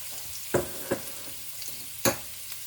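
Garlic fries in cooking oil with a quiet, low sizzle broken by a few sharp pops and crackles, heard close and alone.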